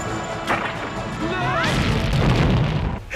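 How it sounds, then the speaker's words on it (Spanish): Explosive arrows blasting in a Rambo action film: a sharp crash and booming burst with a swooshing sweep, followed by a loud, rumbling explosion that fills the scene before cutting off. "Rambo usa más flechas explosivas."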